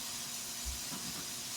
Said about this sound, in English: A lot of chicken in there. It's sizzling.